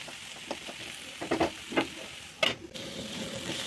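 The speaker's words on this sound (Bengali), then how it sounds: "আমি লাউ ভাজিটা দিচ্ছি।" Bottle gourd frying in a pan, a steady sizzle with a few sharper stirring scrapes and clinks, close and fairly quiet with no talking.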